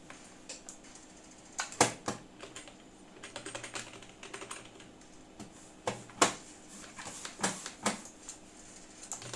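Computer keyboard and mouse controls used to play a fast shooter game on PS5 through an adapter: close, crisp keystrokes come in short irregular bursts with louder clacks here and there, over a faint steady hum and no speech.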